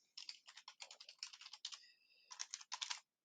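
Rapid keystrokes on a computer keyboard as an email address is typed into a password reset form, bursts of close clicking with a brief pause near the end, no talk.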